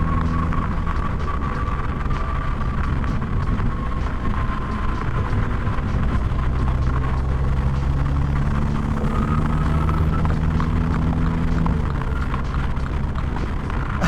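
A 301-horsepower 2020 MINI JCW Clubman drives along with a loud, continuous engine drone and road rumble, its pitch gradually rising and settling through the run.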